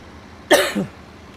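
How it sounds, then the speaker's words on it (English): A single sharp cough, close to the mic, with a brief rough tail, set against quiet room background. "I'll try and face away from the microphone when I cough in future."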